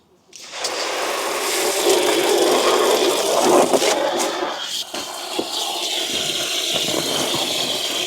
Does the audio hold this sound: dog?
no